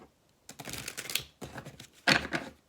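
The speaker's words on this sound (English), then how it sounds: "Give me one more shuffle there." Tarot cards being shuffled by hand in three bursts of riffling and slapping, close and fairly loud, with short pauses between them and no talking.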